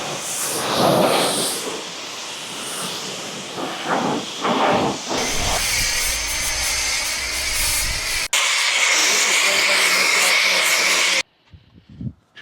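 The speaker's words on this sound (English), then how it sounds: "Turn on the pressure washer." A pressure washer blasts a golf cart frame with a steady, loud hiss that runs unbroken for several seconds, then cuts off sharply, leaving quiet handling noise.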